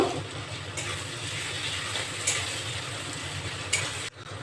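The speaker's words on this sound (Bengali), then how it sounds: "রসুনটা দিয়ে আমি ভাজা ভাজা করে নিয়েছি" Garlic paste fries and gets stirred with onion in a pan for veg biryani, a low steady sizzle with a few soft scrapes of the spoon, moderately quiet and unaccompanied by speech.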